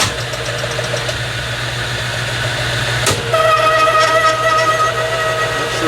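A metal lathe turning a carriage stop spindle gives off a steady mechanical hum with a low rattling chatter. A sharp clunk midway is followed by thin ringing tones over the drone.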